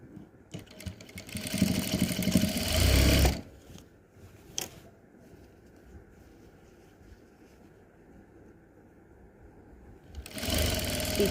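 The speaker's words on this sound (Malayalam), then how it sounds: "ഇവിടെ ഇങ്ങനെ വെച്ച് സ്റ്റിച്ച് ചെയ്യും താഴോട്ട്." A sewing machine runs in two loud bursts while stitching fabric for a beginner's sewing project, with a steady motor whir, a short click in the quiet pause between runs, then the stitching starting again.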